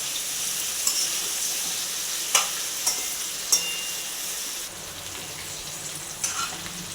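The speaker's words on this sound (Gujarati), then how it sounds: "તેલમાં ભીંડો છે એ ઉપર નીચે કરી નાખવાનો વ્યવસ્થિત" Okra (bhindi) frying in oil in an open pan, a steady close sizzle with several sharp scraping stirs of a spoon against the pan.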